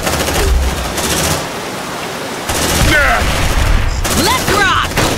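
Grenade blast and gunfire in the sci-fi video game Aliens: Dark Descent, a dense crackling barrage in loud bursts with short screeching tones over the combat noise.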